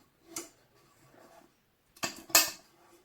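A brand-new titanium camping frying pan is handled, giving a few light metallic clinks and taps, two separate clusters of quiet close knocks with silence between.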